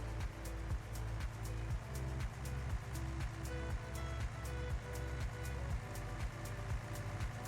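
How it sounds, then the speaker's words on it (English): A tractor engine in Farm Simulator 19 strains to pull up a hill, giving a low, steady drone with a regular pulsing rhythm and periodic clicking, moderately loud and with no speech. "this tractor's too weak for this hill."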